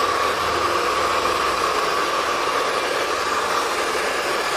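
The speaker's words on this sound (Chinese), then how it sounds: "接下来我们用滚梳把它吹出弯度来啊，吹出弯度" A hair dryer blow-drying mid-length hair shaped with a round brush, a continuous steady airy whoosh with an even hum, close and constant for the whole stretch.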